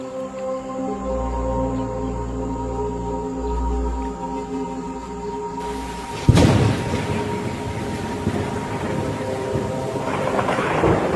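A sharp crack of thunder breaks over a low rumble, followed by steady, hissing rain that keeps falling and builds slightly toward the end.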